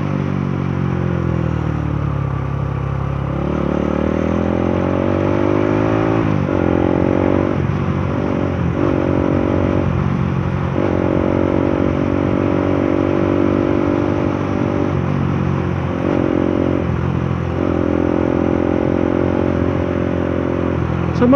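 A motorcycle rides along a rural road in Prieto-Diaz, Sorsogon, its engine loud and close for the whole stretch, with the pitch climbing and dropping through gear changes and throttle shifts and no talk over it.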